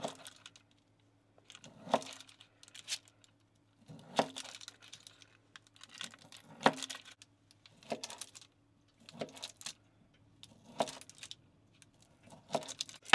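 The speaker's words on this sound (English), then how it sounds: "we're going to cut the guanciale into little slices that we're then going to cut into cubes" A knife slicing guanciale on a cutting board, giving a run of crisp, evenly spaced chops roughly every second, close and fairly quiet, with no voices.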